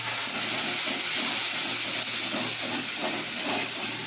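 Water poured into frying spices in a hot pan sets off a steady, loud hiss of steam that holds for the whole stretch, with faint crackles underneath and no talking.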